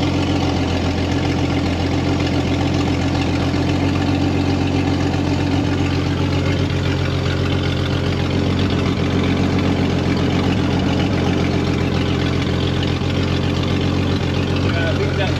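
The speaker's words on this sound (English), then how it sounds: "Speed that drive shaft up some." A Jeep XJ with the 4.0 L6 runs steadily while its damaged drive shaft spins and wobbles, giving a constant loud mechanical drone and hum with no letup. A person talks over it.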